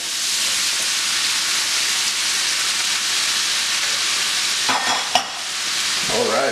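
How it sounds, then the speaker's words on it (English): Steady loud sizzling of vegetables frying in hot oil left from cooking chicken, continuous hiss with a couple of brief clatters near the end. "Yeah, get that sizzle, baby."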